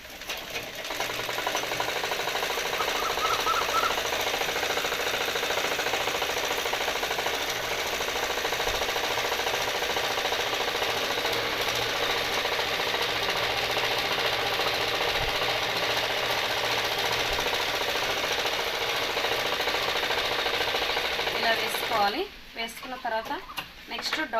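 A sewing machine stitches a blouse, running steadily and continuously at close range for about twenty-two seconds before stopping, with a few faint handling noises at the end.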